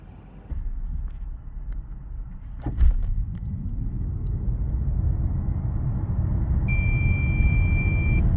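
A 2770 kg BMW i7 M70 electric luxury sedan launches hard from a standstill. A low rumble of road and drivetrain builds steadily after a brief thump and keeps swelling, with a thin electronic beep tone near the end.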